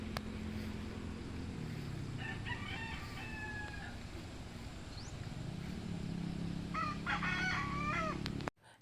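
Chickens and cockerels in a backyard beside a scratch pen. Roosters crow twice in clear, mid-distance bursts over a steady low rumble of background noise.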